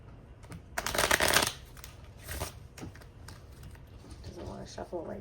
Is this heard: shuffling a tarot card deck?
yes